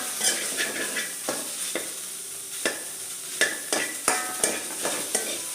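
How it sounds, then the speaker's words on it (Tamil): Spoiled, curdled milk is stirred constantly in a pan, a spoon scraping the bottom in repeated strokes about every half second over a soft sizzle, close up with no voices. "ஸோ கை விடாமல் கிண்டி கொடுத்துட்டே இருக்கணும்."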